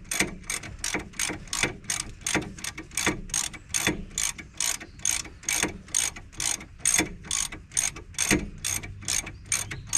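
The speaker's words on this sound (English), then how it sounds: "Now we'll do these two bolts back up." A ratchet tightens the brake caliper bolts on a Ford Fiesta ST during a brake upgrade, giving a steady run of about twenty quick, close clicking bursts in an even back-and-forth rhythm, with no talk.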